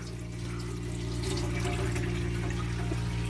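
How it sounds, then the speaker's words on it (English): Water runs steadily from an electric water pump and splashes into a tank, giving a continuous broadband rush over a low, constant mechanical hum. "That is the water from the pump."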